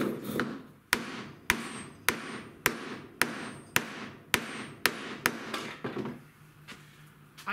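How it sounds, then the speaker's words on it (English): A rubber or leather mallet taps a part into a Sieg 7x14 mini lathe during a CNC conversion: about a dozen sharp, evenly spaced knocks, close and clear in a quiet room, the strikes quickening slightly toward the end. "So it is necessary to now use a leather or rubber hammer or a block of wood on here."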